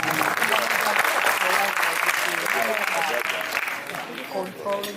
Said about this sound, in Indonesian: Kita berikan tepuk tangan yang meriah untuk sponsor kita